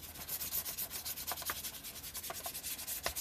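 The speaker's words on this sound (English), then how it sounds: "Let me try to get some of this paint off." A hand rubs paint off a journal page over dried, textured glue, making soft, close scratchy strokes in a quick, uneven rhythm with no talking.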